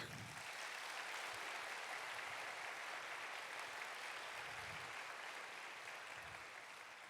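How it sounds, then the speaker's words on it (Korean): Sustained applause from a large church congregation during a worship service, steady and dense throughout, fading slightly toward the end. "사랑의 마음을 담아 큰 격려의 박수 부탁드립니다"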